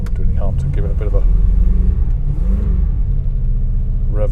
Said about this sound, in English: I want to give it a good rev